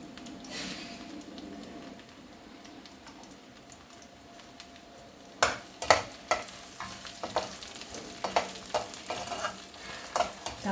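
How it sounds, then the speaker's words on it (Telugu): Tempering spices (mustard seeds, cumin, dried red chillies and crushed garlic) fry in oil over a low flame; a soft sizzle gives way to a close run of sharp pops and crackles as the seeds start to burst. "తాలింపు కూడా సిమ్లో పెట్టి వేపుకుంటేనే బాగుంటుంది. లైట్గా వేగాలి"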